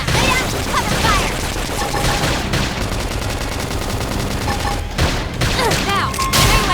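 Rapid bursts of gunfire ring out in a sci-fi battle in Xenoblade Chronicles X, with dense fusillades, booms and impact crashes and brief pauses, all mixed with game effects and battle cries.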